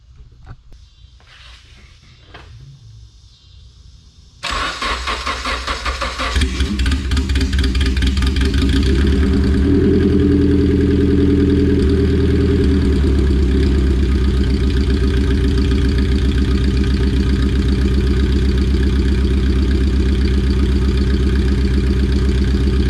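After a few quiet seconds, an all-motor Honda car engine cranks and fires, revs briefly, then settles into a loud, steady idle up close.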